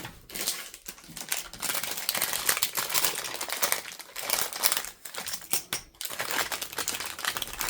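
Someone digs around inside a craft bag hunting for an awl, producing continuous close crinkling, rustling and clattering of packaging and small tools that rises and falls without pause.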